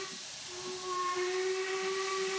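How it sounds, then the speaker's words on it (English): Steam locomotive drain cocks hissing in Train Simulator 2020 on the Coronation Class Duchess of Hamilton, a steady, loud, continuous hiss with a sustained whistle-like tone that swells slightly, with no talking. "Open the drain cocks."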